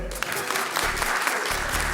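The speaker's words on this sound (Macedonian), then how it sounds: "Аплауз провинција да видиме." Audience at a live comedy show in Macedonia applauds steadily, a dense crowd clapping that fills the room with no voices on top.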